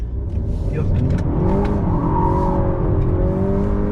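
A 2020 Honda Accord sedan engine revving hard and rising in pitch as it accelerates out of a turn, loud and steady throughout with a faint voice underneath.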